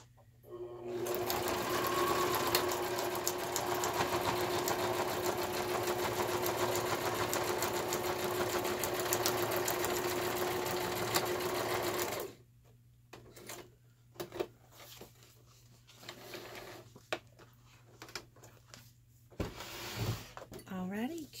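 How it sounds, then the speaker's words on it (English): A sewing machine stitches fabric directly onto a ring binder journal page in a loud, steady whir lasting around twelve seconds, followed by quieter handling noises and clicks as a person talks. "we're just going to sew this directly on to this page"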